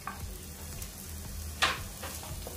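Chopped garlic and onion fry in a pan with a low crackle and light stirring scrapes, with one sharper clatter near the middle.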